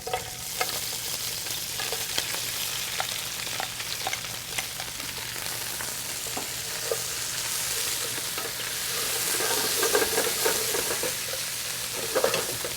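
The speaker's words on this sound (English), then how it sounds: "I will add olive oil, butter, and our lobster shells" Lobster shells fry in olive oil and butter, giving a steady, dense sizzle with scattered scraping and stirring clicks, swelling slightly louder toward the end, with no voices.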